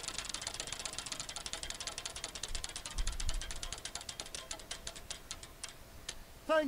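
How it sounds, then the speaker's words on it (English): The loser wheel in the You Don't Know Jack game spins with rapid clicking that gradually slows, the ticks spreading farther apart, before a short chime sounds at the end. "Your horrific score qualifies you for a spin of the loser wheel! Give it a twirl!"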